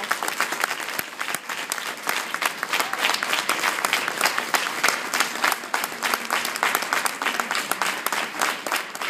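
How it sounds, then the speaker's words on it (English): Enthusiastic audience applause at an induction ceremony, dense continuous clapping from many hands throughout, loud and close with a few cheers mixed in. "Not too much clapping."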